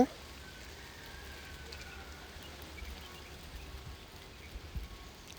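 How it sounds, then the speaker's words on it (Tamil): Pepper chicken frying in a pan gives a soft, continuous crackling sizzle, fairly faint and steady with a few slightly louder pops. "நல்லா ஃப்ரை ஆகிற வரைக்கும் அடி பிடிக்காமல் இருக்கிறதுக்காக இந்த மாதிரி பண்ணிக்கோங்க"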